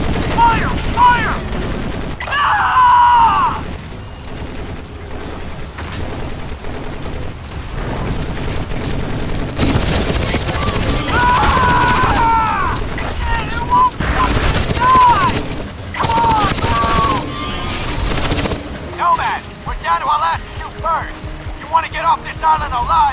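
Heavy gunfire in the Crysis video game, with rapid automatic bursts and loud cracks coming in waves over several seconds while voices shout over the shooting.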